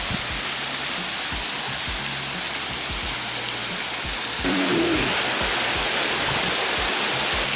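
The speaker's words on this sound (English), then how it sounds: "We're crossing the waterfall now." A waterfall crossing a rocky hiking trail at Tiger Leaping Gorge in China pours with a dense, constant roar close by. Faint low thuds, likely footsteps on stones, sound under it, and no one speaks.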